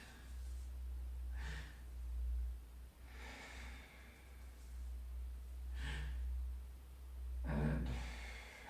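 Slow, deep breaths drawn in and out during a core-activation exercise, four separate airy breaths spaced a couple of seconds apart, close and quiet over a low background hum.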